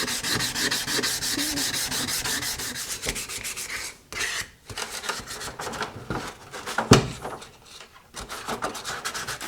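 Sandpaper scrubs by hand over a metal part from a 1930s Craftsman bandsaw: rapid, close back-and-forth rasping strokes that pause briefly a few times, with no talking.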